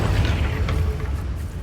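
A Bombarda blasting spell goes off in the Hogwarts Legacy game as a loud, deep, rumbling explosion that fills the short moment without letting up.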